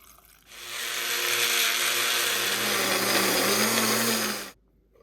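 A kitchen blender whirs loudly for about four seconds, grinding garlic, ginger, green chilies and a little water steadily with a slight rise in pitch, then cuts off abruptly.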